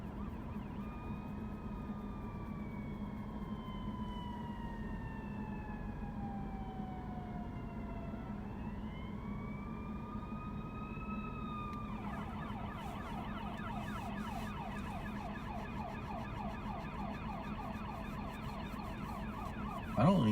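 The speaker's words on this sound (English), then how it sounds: "Here comes an ambulance going by." An ambulance siren passes along a city street in Bakersfield, first a long slow wail sweeping up and down, then switching to a rapid yelp, moderately distant over steady road and engine hum.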